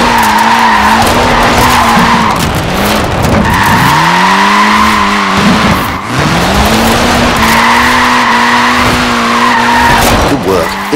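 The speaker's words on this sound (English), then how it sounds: "Look at that, laying down some rubber there." Mini tires skid and squeal across an airfield in Forza Horizon 4, a loud, continuous engine drone with long wavering screeches that rise and fall in several sweeps, close and unbroken throughout.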